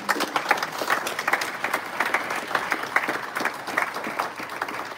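Mourners at a funeral home tribute for Didier Beya clap together in a steady, moderately loud round of applause, brisk individual claps blending throughout.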